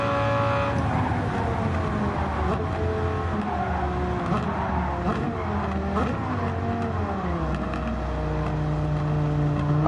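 A high-revving sports car engine screams continuously, its pitch climbing and dipping through gear changes, loud and close throughout.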